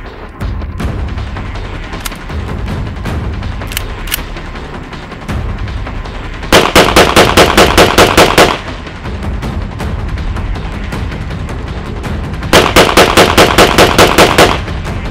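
A Turkish-made Hunt Group M13 MAT shotgun fires 7.5-shot 28-gauge shells outdoors, with loud single blasts mixed with two rapid rolling strings of shots at close range.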